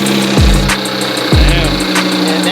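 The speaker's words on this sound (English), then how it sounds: "And that's the sound of a broken transmission." Lamborghini engine with a broken transmission idling loudly, with two sharp low-pitched downward clunks or groans a second apart over a steady mechanical hum and a rhythmic high ticking.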